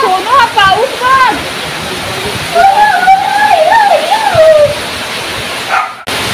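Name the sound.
heavy rain pouring in a Konkan village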